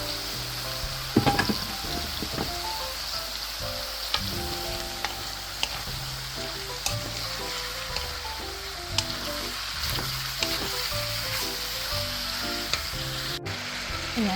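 Ground meat sizzling steadily in a hot pan, a continuous loud crackle with occasional sharper pops and the odd stir, no talking.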